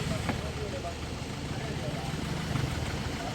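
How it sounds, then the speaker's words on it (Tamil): A Maruti Ritz car engine idles with a low, steady rumble close by, while someone talks over it throughout. "நான் வண்டியை ஸ்டார்ட் பண்ணுறேன்."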